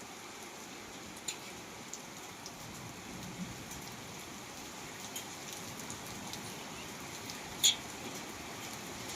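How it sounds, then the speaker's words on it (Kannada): Continuous heavy rain patter with small hailstones making occasional distinct sharp taps, one louder knock near the end; no voices. "ಮಳೆ ನೋಡ್ರಿ, ಆನೆಕಲ್ ಮಳೆ."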